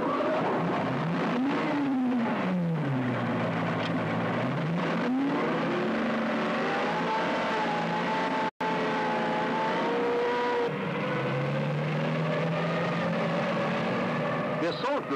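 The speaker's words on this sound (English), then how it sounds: "Group moves off to destroy the enemy position, led by the intimate support tank." Tracked armoured personnel carriers move off behind a close-support tank on a 1979 British Army infantry exercise, engines rising and falling in pitch with a steady mechanical roar throughout, loud and close, with a brief dropout midway.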